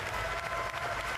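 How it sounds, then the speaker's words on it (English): Audience applause at the BlizzCon 2011 StarCraft 2 Invitational, heard as a brief, steady wash of dense clapping from a large crowd, loud and continuous throughout. "Give yourselves a round of applause."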